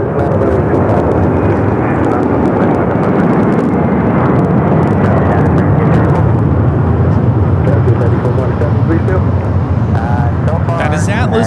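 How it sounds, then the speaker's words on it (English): An Atlas Air Boeing 747-400 freighter takes off at Los Angeles airport with a loud, sustained, rumbling engine roar, steady throughout and close by, with a voice talking over it. "That is Atlas Air 8537 taking off to Honolulu on the 747-400 freighter."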